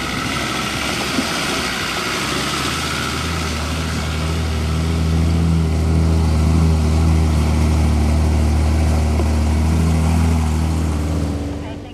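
A Suzuki 4WD vehicle with its tyres deflated for greasy off-road tracks runs its engine as a loud, steady drone. The rumble builds a little partway through, then holds close by without talking.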